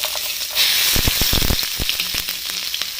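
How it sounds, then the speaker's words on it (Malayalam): Finely chopped shallots sizzle loudly in hot oil for prawn vindaloo, a close, continuous crackling hiss punctuated by quick popping ticks and light stirring taps. "നന്നായിട്ടൊന്ന് ഫ്രൈ ചെയ്തെടുക്കാം"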